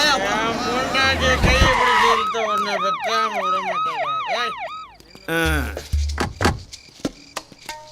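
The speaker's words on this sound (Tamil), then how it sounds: "சார் போலீஸ் வண்டி வருதியா" A loud police vehicle siren wails up and down in quick repeated sweeps, close by, with voices speaking before and after it.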